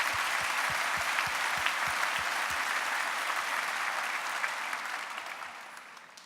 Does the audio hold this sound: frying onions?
no